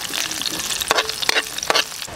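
Onion frying in a pan with garlic already golden brown, a steady sizzle with several louder bursts of crackle as the pieces are stirred, close and without talk.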